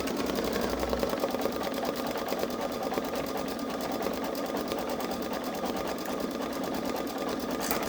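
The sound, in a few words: Babylock Solaris Vision embroidery sewing machine stitching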